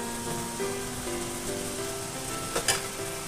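Cooked meat is lifted out of a biryani pot with the heat off, giving soft scraping and clinks over a steady background sizzle, with a sharper clatter near the end.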